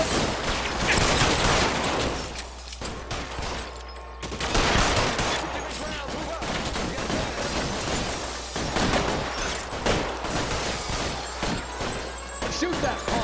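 Dense rapid gunfire rattles in a shootout in the video game L.A. Noire, with bursts of shots and impacts continuing almost without pause under occasional shouted voices.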